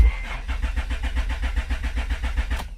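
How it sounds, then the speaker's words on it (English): A 2004–2008 Acura TL engine cranks without catching, a rapid rhythmic starter churn repeating evenly for a few seconds, close and fairly loud, then cutting off. "It's just going to crank and it won't start it."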